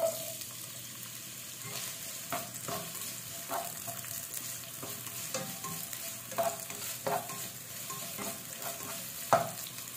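Onion frying in hot cooking oil in a home kitchen, a steady low sizzle broken by repeated soft clinks and scrapes of stirring, close and moderately loud, with no voices.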